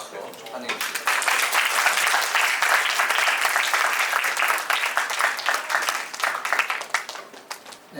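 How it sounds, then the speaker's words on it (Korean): Steady applause from a university presentation audience welcomes a student team taking the stage, a dense sustained clatter of clapping that swells quickly and tapers off toward the end. "큰 박수로 환영해 주시기 바랍니다."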